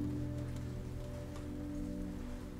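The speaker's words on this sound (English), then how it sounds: "The rain creates a soft, rhythmic sound as it hits the water" Steady rain patters onto lake water at night by a boathouse in a continuous soft hiss, with a low hum running underneath.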